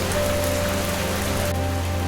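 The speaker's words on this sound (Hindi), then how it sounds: "मुरली का घर अभी भी इस भयंकर बारिश और बाढ़ में सीना ताने ज्यों का त्यों खड़ा था।" Heavy rain pours in a dense, steady, close-up wash of noise with no pauses and no voices.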